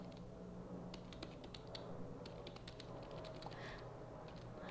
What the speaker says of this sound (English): Notice that as soon as I start typing, these listen icons appear.